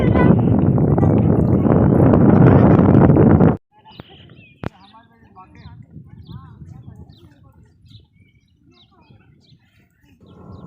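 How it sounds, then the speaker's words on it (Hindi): Loud blustery wind roars against the microphone for a few seconds at Sambhar salt lake, then cuts off, leaving distant birds chirping and faint voices. "बहुत तेज हवा चल रही है यहाँ पे"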